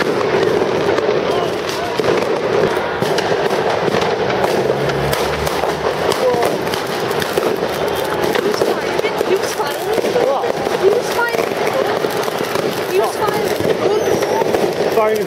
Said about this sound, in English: Firing his gun?